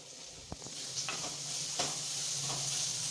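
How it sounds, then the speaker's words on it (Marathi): Turmeric and asafoetida being stirred together in a hot pan for Mumbai vada pav filling: a few scraping spoon strokes over a steady soft sizzle, close and fairly quiet, with no voices. "आता हे सर्व मिक्स करून घ्यायचं आहे सर्व मसाले मिक्स झाल्यानंतर"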